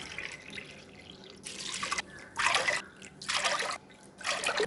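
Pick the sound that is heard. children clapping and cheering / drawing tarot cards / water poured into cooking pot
water poured into cooking pot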